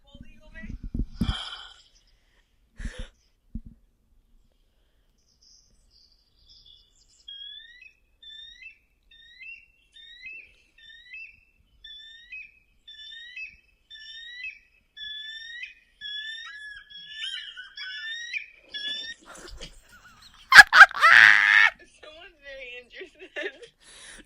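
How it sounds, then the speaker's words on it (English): A series of high, chirping, piping bald eagle calls repeats in quick bursts for several seconds, quiet and fairly distant, with brief voices before and a loud noise after. "That's the sound that a bald eagle makes."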